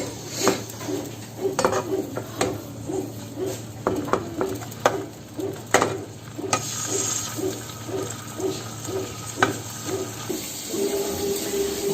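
Ingredients frying in a pan, with repeated clinks and scrapes of cookware and utensils over a steady sizzle, close by and with no voices.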